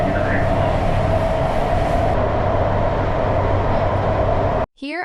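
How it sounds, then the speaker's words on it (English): Beijing metro train riding along, a steady loud roar of wheels and cabin rumble with a faint electronic tone at the end. "Then we took the metro to go to the Xiaoyaoju metro station."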